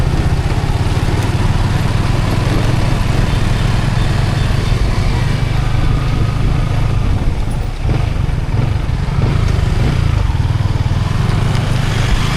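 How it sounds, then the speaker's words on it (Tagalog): Trucks rumbling past on a road, a steady, loud, close engine roar with low throbbing lasting throughout and no voices. "May dumadaan ng mga truck eh."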